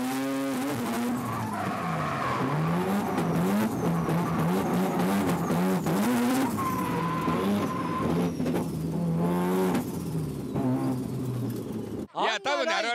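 Drift cars slide at the 2003 D1 Grand Prix, including a Blitz Works Skyline, engines wailing and revving with tire squeal rising and falling throughout, loud and continuous beneath excited commentary, cutting off abruptly near the end.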